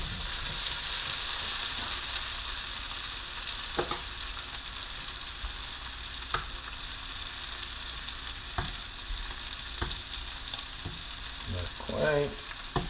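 Wedding soup meatballs flavored with Parmesan, garlic and onion fry in a pan with a constant loud sizzle, and a handful of clicks and scrapes from tongs or a spatula come through. A voice speaks briefly.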